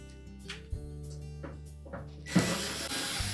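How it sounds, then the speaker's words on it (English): Screws come out of the rear access panel of a Samsung range: a few short ratcheting clicks and metallic taps over a low hum, ending in a brief louder scrape, close and quiet. "we need to remove these 5 screws that secure that access panel"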